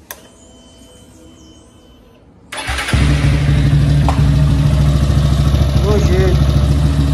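Motorcycle engine cranking and catching, then settling into a steady loud idle that runs to the end after a quiet opening, close by with no talk over it.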